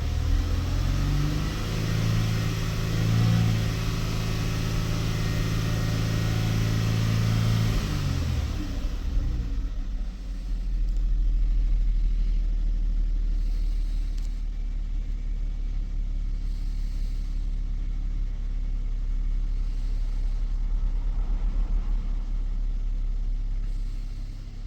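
Kia Stinger with a low fuel pressure fault revving up: a loud, steady engine drone that drops after about nine seconds into a deep, constant idle-like rumble that continues to the end, with no talking.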